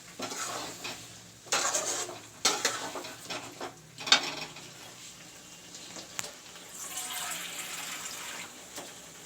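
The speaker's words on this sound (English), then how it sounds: "Now it is being mixed nicely." Chicken curry stirred in a pot with a spoon: a few scattered scrapes and knocks against the metal over a low sizzle, fairly quiet and irregular, with no talking.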